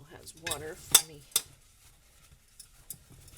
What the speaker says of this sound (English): Just wash those pans.